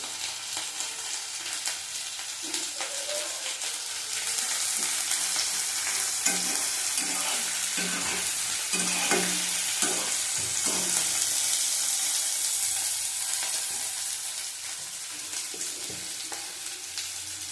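Onion and black cumin fry in hot oil in a pan, a loud, close, continuous sizzle that swells midway as the ingredients hit the oil, broken by occasional scraping stirs and clinks, with no voices.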